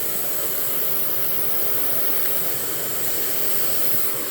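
A Metropolitan vacuum cleaner runs steadily during an airflow suction test, giving a loud, even, whooshing roar with a high whine that holds without pause for the whole stretch.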